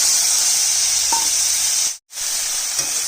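Prawns coated in salt and turmeric sizzle loudly in hot oil, a bright continuous hiss with a brief cut near the middle before it resumes, no talk.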